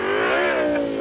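Ola Electric Move 3.0 scooter in Bolt mode gives off a synthetic motor sound, a steady bright hum that swells slightly in pitch and then settles, heard alone and close.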